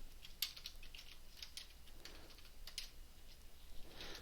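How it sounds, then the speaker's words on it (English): Typing on a computer keyboard while entering a table in Excel: scattered light key clicks and taps, faint and close, with no talking. "I'm just going to type, and you can use tab to go to the next column."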